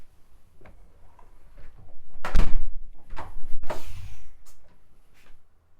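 Door fitted with a TBP hydraulic door brake cylinder swinging closed, with soft ticks and creaks before a loud thud, followed by further clunks and a slight mechanical noise from the cylinder, heard up close.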